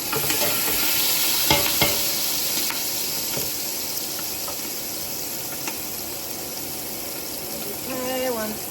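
Meat sauce with minced garlic sizzling in a pan, a steady close hiss broken by scraping stirs and clinks of the utensil.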